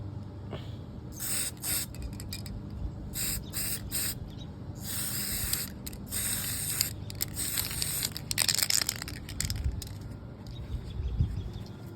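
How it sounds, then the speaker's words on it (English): Spray paint hisses from an aerosol can in short, choppy bursts, laying light coats onto a scale model. A dozen or so separate sprays repeat at close range with brief gaps, over a low background rumble. "Then tip upside down and spray a little bit to help prevent splatter, and then go over it with light coats."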